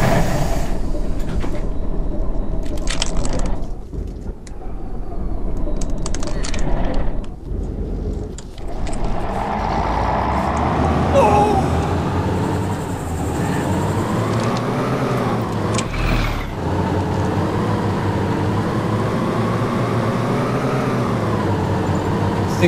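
A bus engine drones and revs in the video game DayZ, loud and close. The pitch rises and falls as it drives on, with brief rattles and knocks early on and no talk over it.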